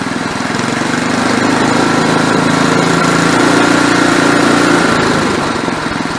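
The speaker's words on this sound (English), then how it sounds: "It's been running for about 35 minutes now, and it's running just fine." A 1979 Ariens snowblower engine runs loud and close after a cold start, with a steady, raspy small-engine drone and a constant low rumble throughout.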